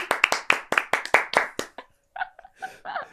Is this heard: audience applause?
yes